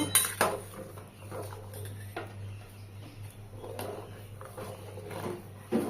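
A spoon scrapes and clinks against a metal pot as milk and vinegar are stirred together to curdle into paneer on a gas stove, a steady run of scraping with scattered louder knocks, close by with a low hum underneath.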